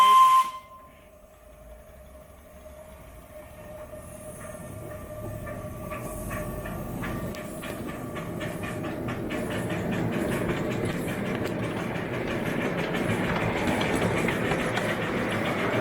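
Model railway steam locomotive runs at a garden railway exhibition, a brief whistle tone opening onto a steadily building hiss and rolling rumble that grows louder as it nears.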